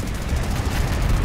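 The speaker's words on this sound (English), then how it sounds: "Come on! Mortar!" Mortar fire in the zombie shooter game 1 Million Zombies, a dense, loud rumble of blasts and booms rolling on continuously without pause, with no talking over it.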